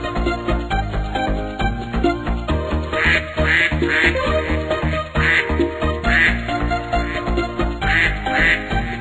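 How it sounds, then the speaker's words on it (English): Cartoonish duck quacks repeat in a steady pattern through a busy, loud children's song about a bus, with music filling the whole stretch and no separate speech. "The ducks said quack, quack, quack, quack"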